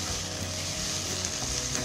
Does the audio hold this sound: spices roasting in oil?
yes